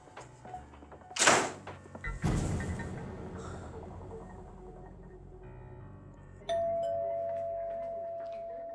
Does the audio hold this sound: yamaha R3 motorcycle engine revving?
no